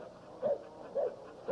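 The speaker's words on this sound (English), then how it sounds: "Formidable dog, even with a pin in his leg." Three short, faint barks and whines from a champion-sired hunting dog with a pinned leg come at even intervals in a yard, each brief and somewhat distant against a quiet background.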